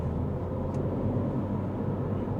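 A Renault Clio Techno full hybrid with 160 hp gives a steady, low, muffled rumble from inside the cabin as it picks up speed, even and unbroken with no talk.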